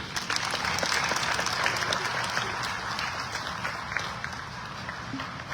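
Sustained audience applause at a digital government summit after the President of Zambia finishes speaking, a dense wash of many hands clapping steadily, fairly loud, with no speech over it.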